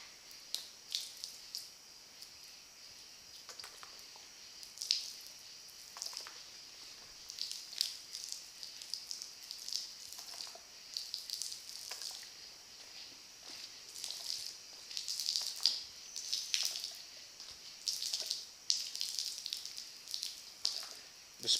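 Degreaser squirted onto an oily concrete garage floor fizzes and bubbles with a faint, steady hiss broken by small crackling pops and squishy ticks, quiet and close, with no voices.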